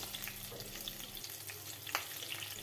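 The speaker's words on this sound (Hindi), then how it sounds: "1 चम्मच जीरा और 2 कटी हुई हरी मिर्च डाल दें। इसे हल्का सा फ्राई कर लें।" Cumin seeds and green chillies fry in hot oil with bay leaves and mustard seeds, a quiet, steady crackling sizzle with a soft spattering burst near the end, no voices.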